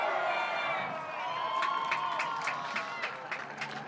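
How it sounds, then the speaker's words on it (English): Soccer crowd at a Wake Forest vs. Notre Dame women's college match chanting from across the field, a steady distant roar of voices with rhythmic shouted bursts and some cheering. "doing the Wake Forest chant from across the field"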